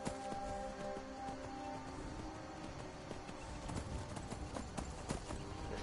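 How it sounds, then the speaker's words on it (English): Horse hooves galloping in the video game Skyrim, a steady rapid clip-clop of hoofbeats running continuously at low level under game ambience, with no talk. "Damn horse run faster."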